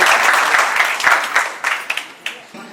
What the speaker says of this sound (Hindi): एक बार राजेंद्र जी के लिए जोरदार तालियां।